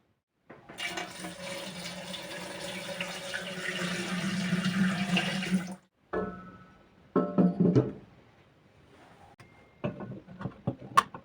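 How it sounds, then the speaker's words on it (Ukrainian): Water gushes steadily into an autoclave over canning jars of homemade chicken stew, a loud continuous pour for about five seconds, then shorter splashing bursts and clinks. "Вкладаємо наші баночки в автоклав та зальємо водою так, щоб вона була десь 2 см над кришками."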